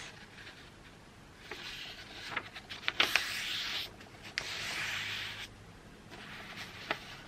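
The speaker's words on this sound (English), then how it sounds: "I have here simple A4 size paper, and I'll fold the paper in half like this." Sheet of plain A4 paper being folded in half, a soft rustle and crinkle with a few sharp creasing crackles, close and fairly quiet, with no talk.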